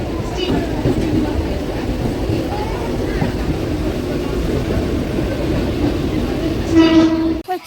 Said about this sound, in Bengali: পঞ্চাশ বাদে বগুড়ায় ঢুকছে ট্রেন